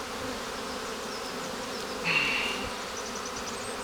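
Dense, steady buzzing of many honeybees in a strong colony wintering on ten frames, heard close from the opened hive, with a brief louder swell near the middle.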